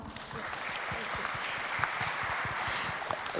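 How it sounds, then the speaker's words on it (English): An audience at an AI business summit applauds a panel, with many individual claps rattling at moderate volume, close and continuous for a few seconds. "A round of applause for the panel."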